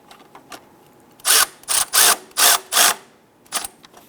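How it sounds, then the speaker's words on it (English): A 10mm bolt is snugged down on a 2008-2013 Nissan Rogue during a water pump replacement, five quick bursts of ratcheting or power-driver whirring in close succession, then a shorter burst after a pause. "let's go ahead and snug down that 10mm bolt"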